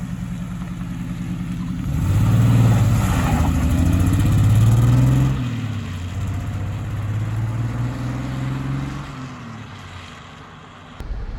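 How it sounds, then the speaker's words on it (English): The engine of a 1972 Triumph TR6 with twin exhaust revs up into a loud, throaty surge, holds, then eases back to a lower drone amid wind noise, with no talking. "you just ease on into the gas and you get that nice throaty punch"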